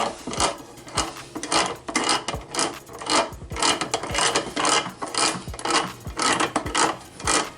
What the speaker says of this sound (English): So this is whenever we get our channel locks. Make sure this is centered, and just start tightening.